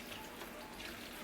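Broth is poured steadily into a dish for a vegan Thanksgiving recipe, making a continuous soft liquid splashing and gushing close by, with no talk.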